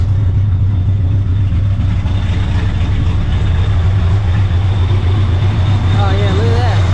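A supercharged 700hp New Edge Mustang GT runs with the hood off, a loud, steady low engine drone with a constant hum, heard from the cabin with a voice talking over it.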